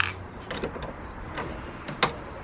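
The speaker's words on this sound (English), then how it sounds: "now we just put a bolt in it" A bolt is set and fastened near the battery in the engine bay of a Honda Civic EP3 Type R, heard as a few faint mechanical clicks and ratcheting ticks, with a sharper click near the end.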